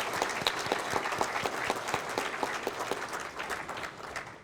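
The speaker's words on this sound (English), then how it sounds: "So a big round of applause for IMFC" A crowd at the opening ceremony of a 40th anniversary event applauds, with many scattered individual claps merging into a continuous, moderately distant wash at a fairly quiet level.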